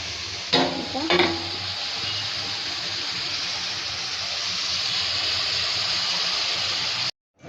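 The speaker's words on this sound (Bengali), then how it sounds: "এদিকে দেখো বিনস, গাজর আর ক্যাপসিকাম ভাজা হচ্ছে" Beans, carrot and capsicum frying in a pan, a steady broadband sizzle that fills the whole clip, with a couple of brief stirring scrapes near the start before the sound cuts off abruptly at the end.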